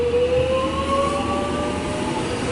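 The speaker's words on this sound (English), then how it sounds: "we've got the Extrapolis departing" An X'Trapolis electric train departs Eltham station in Melbourne, giving a steady loud rumble with rising motor whine tones that climb gradually as it pulls away.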